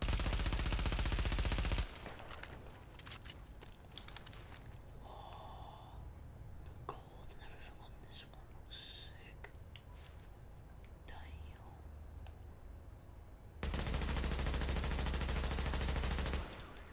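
Rapid automatic gunfire from a fast-firing weapon in the video game Tom Clancy's The Division comes in loud, dense bursts at the start and end, with a quieter stretch of faint sounds and soft voice between.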